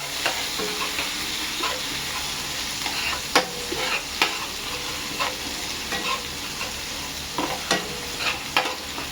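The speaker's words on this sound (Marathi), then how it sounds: "जिरं तडतडलेलं आहे तर आपण टाकूया आदू लसूणचा मिरचीचा ठेसा" Ginger, garlic and green chili paste frying in oil with cumin seeds, a loud continuous sizzle broken by regular sharp scrapes and knocks of a stirring spoon against the pan.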